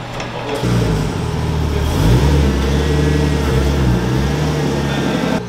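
A Nissan R32 Skyline engine revs hard and holds high, rising and dipping in loud, close bursts during an attempted burnout, with no talk over it.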